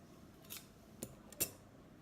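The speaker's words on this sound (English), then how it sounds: "I'll cut it with scissors." Scissors snip through chunky knitting yarn in three short, crisp cuts spaced about half a second apart, each a quick, close metallic click against a quiet background.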